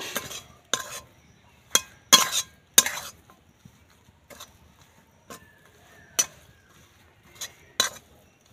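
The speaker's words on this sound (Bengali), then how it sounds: "সমস্ত কিছু খুব ভালো করে নাড়াচাড়া করে নেব" A metal spoon stirring spiced khasta roll filling in a pan, producing sharp intermittent scrapes and clinks against the pan, spaced irregularly over quiet background.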